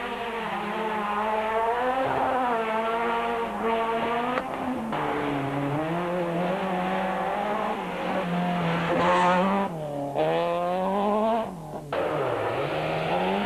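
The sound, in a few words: rally cars racing past, Toyota Conquest and Golf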